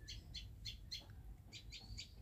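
Small birds near a home kitchen chirp in quick bright bursts, a cluster of four short calls followed by a pause and then another run of tweets, fairly close over low background rumble.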